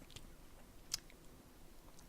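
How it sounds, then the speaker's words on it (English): Someone chews on rubbery, chewy food with soft, faint mouth sounds and one small crunchy bite, close by and alone. "it's like chewing on a rubber ball"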